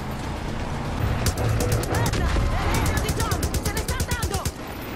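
Rapid bursts of automatic gunfire crackle in the Far Cry 5 video game, a dense string of shots from about one second onward that fades near the end, loud over a busy game soundscape with a voice speaking at times.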